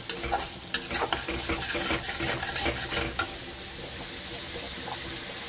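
Ground spices with salt, chilli powder and turmeric sautéing in oil for a Bengali pomfret fish curry, with scraping stirs and crackling sizzle in bursts over the first three seconds before settling into a steady hiss.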